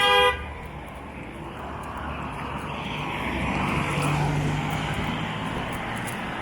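A short horn toot, then a car drives past on the road nearby, its engine and tyre roar swelling and fading gradually.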